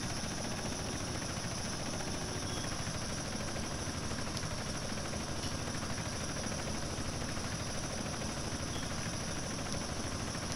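Helicopter in the video game GTA San Andreas Definitive Edition, a constant rapid rotor chop with steady engine whine, unbroken and fairly quiet throughout the whole stretch.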